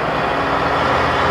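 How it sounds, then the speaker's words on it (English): A big truck rolls past close by in a nighttime parade of lighted show trucks in Mackinaw City, Michigan, a steady loud broadband engine-and-road roar with no break. "Oh, wait, here's a truck."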